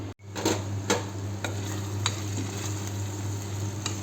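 Potatoes and onions sizzle in a pan for a Punjabi-style aloo kadhi, with a spoon scraping and stirring through them in several distinct strokes over a steady close frying hiss.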